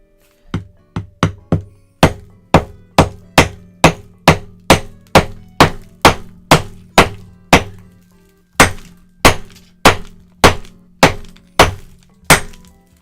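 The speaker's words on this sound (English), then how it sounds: "I tried banging it as hard as I can and it's still not coming out as easy as that one." A rock is struck hard again and again to smash it open, about two dozen loud, sharp thunks landing in a steady rhythm with one brief pause midway, close and alone.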